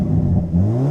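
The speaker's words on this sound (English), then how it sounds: "you can maybe hear there the exhaust gets louder" A Hyundai N performance car engine revs in N sport mode with a rising exhaust note, loud and close, growing louder toward the end.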